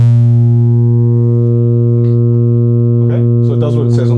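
Serge modular synthesizer saw wave fed through a triple wave shaper, giving a smooth, rounded sine-like tone held steadily and loudly throughout, while someone talks over the latter part.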